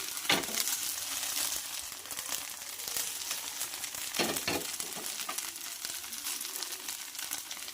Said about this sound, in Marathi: आपण आता परतून घेऊया आणि इकडेने थोडंसं तेल टाकायचं आहे आपल्याला म्हणजे तो छान असा भाजला जाईल